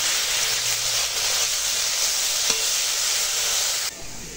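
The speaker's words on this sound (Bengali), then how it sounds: "এখন কুমড়ো ফুল ভাজা হচ্ছে" Pumpkin flowers fry in oil with salt and turmeric, giving a close, steady sizzling hiss that suddenly drops quieter near the end.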